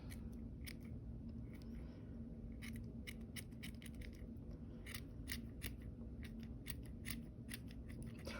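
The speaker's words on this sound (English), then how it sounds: "Maybe I'll trim some pieces that are hanging" Scissors snipping stray strands from a yarn pom-pom for a little knitted hat, a quick run of soft, crisp cuts in an irregular rhythm, close and quiet with no talking.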